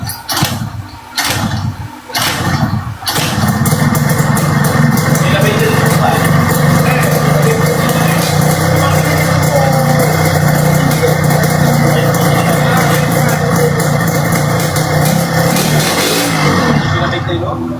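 Yamaha RXZ motorcycle started after sitting unused for a year, a few sharp cranking attempts before the two-stroke engine catches and settles into a loud, steady, close idle, with people talking nearby.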